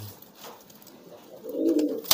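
Domestic pigeon giving a low, swelling courtship coo near the end, close and clear above faint background noise, with a brief sharp tap at the very end.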